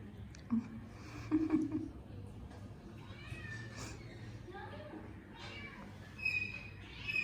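A cat meows softly a few times amid quiet background noise, with faint voices murmuring and whispering nearby.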